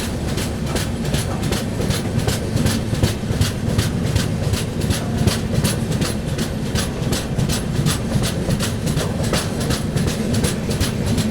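The Mahanagari Superfast Express rushes past at a level crossing, a loud, continuous roar of wheels on rails with a steady rapid clickety-clack of coaches going by close up, no voices.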